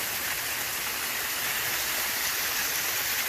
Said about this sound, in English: this is waterfall number 2 up here from the top level.